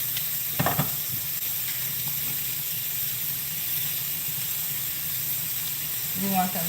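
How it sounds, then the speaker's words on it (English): Mushrooms sautéing in a pan as seasoning goes on, a steady soft sizzle and hiss running throughout, with someone talking over it. "these are our mushrooms that we have here that we're sauteing"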